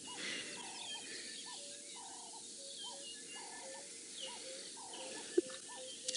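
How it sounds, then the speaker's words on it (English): Out in the African bush, a woodland kingfisher gives a repeated rhythmic call in evenly spaced bursts, faint and distant, with other birds calling softly in the background and one brief sharp note near the end. "There is a woodland kingfisher, as is always inevitable"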